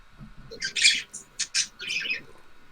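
Pet birds chirp and squawk in a quick burst of sharp, bright calls, loud and close, with a few separate bursts over a faint background hum.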